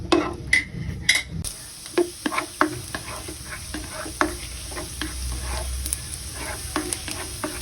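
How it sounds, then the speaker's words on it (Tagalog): Minced garlic frying in hot cooking oil for sinarsahang atay at balun balunan, a close steady sizzle broken by repeated clacks and scrapes of a spoon stirring in the pan. "Pag medyo mainit na po ang ating mantika, lagay na po natin ang minced garlic."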